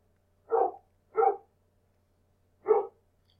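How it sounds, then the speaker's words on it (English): A house dog barks three times in the home, two quick loud barks followed by a single bark after a pause, clear and close with no talk. "that is my dog"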